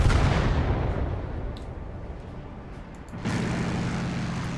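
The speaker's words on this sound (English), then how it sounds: "this is their artillery coming at us now" In a World War II D-Day war video game, enemy artillery fire roars in as a loud rushing blast that fades over a few seconds, then a second heavy burst of rumbling noise hits and holds.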